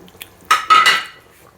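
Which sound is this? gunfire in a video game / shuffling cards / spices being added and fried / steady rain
spices being added and fried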